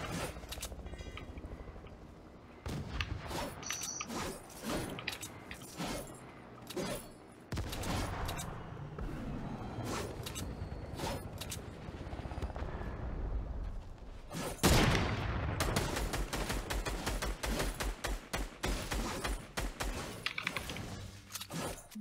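Gunfire in the Fortnite video game, bursts of rapid shots and scattered single cracks mixed with keyboard clatter, fairly quiet overall and without talk.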